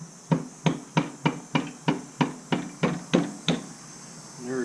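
A hammer strikes a punch set into the end of a Harley Road Glide rear axle in a garage, eleven sharp metallic blows at a steady, even rhythm, close and clear with little else around them.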